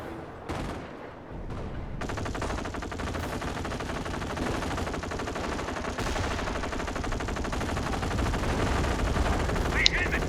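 Machine gun fire in the video game Company of Heroes, a World War II strategy battle: long, rapid, sustained automatic bursts rattling continuously for several seconds, dense and loud, with mixed battlefield gunfire layered underneath.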